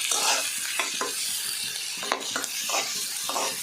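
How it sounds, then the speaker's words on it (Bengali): Onions fry in hot oil with bay leaf and cinnamon, a dense close sizzle with repeated spatula scrapes stirring them through the pan. "পেঁয়াজটাকে আমি একটু লাল লাল করে ভেজে নেব।"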